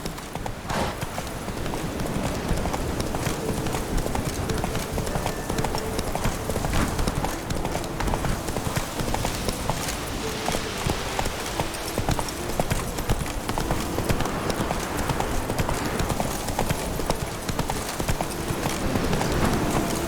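A horse's hooves gallop in the video game The Witcher 3, a fast, steady clip-clop that runs close and loud throughout with no speech.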